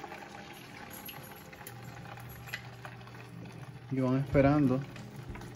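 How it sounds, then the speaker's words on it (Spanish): Corn fritters (sorullitos de maíz) frying in very hot oil: a steady, soft bubbling sizzle that continues under a woman's brief speech near the end. "Lo van colocando a fuego alto con aceite bien caliente"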